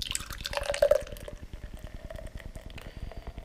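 Treehouse Brewing beer from Charlton, Massachusetts, is poured into a glass, a steady gurgling, bubbling pour heard close up over a rhythmic background.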